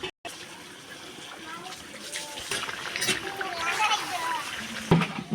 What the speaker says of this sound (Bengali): পানি দিয়ে দিতে আসছি